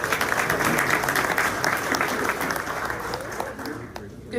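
Sustained, dense applause from an audience at a civic State of the City gathering in Corona, greeting a local bakery's owners; the clapping stays loud and steady throughout, easing only slightly near the end.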